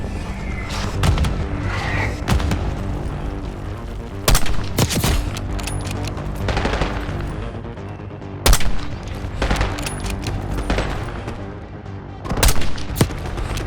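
Heavy gunfire and mortar blasts on a battlefield in Call of Duty: Black Ops 6, with continuous rattling shots and several loud, booming impacts spread through the clip at close range.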